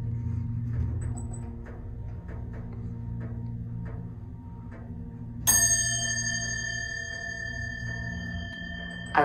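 A Westinghouse MPH hydraulic elevator at Macy's, installed 1987, sounds its bell: a single bright, sustained ding with long ringing overtones that follows soft repeated clicks over a low steady hum.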